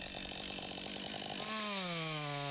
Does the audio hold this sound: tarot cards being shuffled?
no